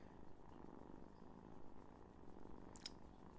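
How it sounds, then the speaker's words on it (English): A small kitten purrs up close, a soft, steady rumbling drone that continues unbroken, with a brief rustle near the end and no talking. "Let you hear his little purr"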